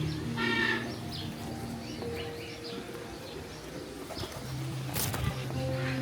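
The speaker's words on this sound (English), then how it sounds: "There's like a pigeon right down here." A pigeon coos at a petting zoo on a farm, a low repeated call sitting under busy background chatter and crowd noise, with people talking nearby throughout.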